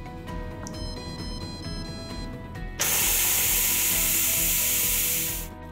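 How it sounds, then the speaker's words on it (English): Steam vents in a loud, steady hiss from a Deluxe Multi Cooker as its pressure is released manually, cutting in sharply after a few seconds of background hum and tones, then holding before tapering off at the end. "Now we'll hit cancel and manually release the pressure."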